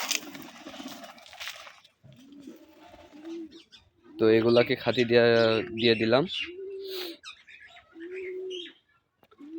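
Pigeons in a backyard loft, kept alongside chickens in very cold weather, give soft, low coos at feeding time, with a louder, drawn-out bird call midway and someone speaking between the calls.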